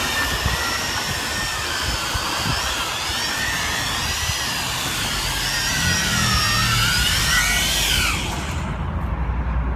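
A JJRC X6 Tarantula quadcopter drone hovers and descends onto grass with a steady high-pitched motor whine, its pitch wavering, then the motors spin down and cut out near the end.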